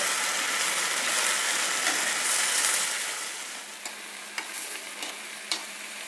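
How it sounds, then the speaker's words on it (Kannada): Hyacinth beans (avarekalu) frying in oil in a pan, a loud dense sizzle that eases off midway, then a few sharp clicks of a spoon stirring against the pan. "ಇದನ್ನು ಕಾಳಿನ ಹಸಿ ವಾಸನೆ ಹೋಗೋವರೆಗೂ ಚೆನ್ನಾಗಿ ಎಣ್ಣೆಲಿ ಹುರಿಬೇಕಾಗುತ್ತೆ"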